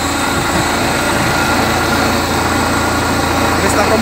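A dump truck's hydraulic piston raises the bed to unload wet sand, heard as a steady mid-pitched engine drone that runs the whole time under nearby talk.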